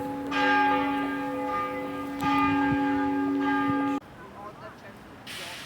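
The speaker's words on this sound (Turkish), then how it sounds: "tam da bu sırada çan çaldı." Bells of St. Mark's Church in Belgrade ring out loud and resonant in two long peals, then stop abruptly, leaving quiet outdoor ambience with faint voices.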